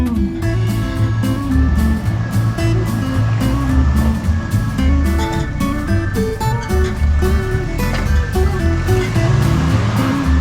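Water pours down a canyon waterfall over the hood of a Honda Ruckus in Sandstone Canyon, Anza-Borrego State Park, a loud steady rushing splash mixed with a rumbling engine and rhythmic thumps.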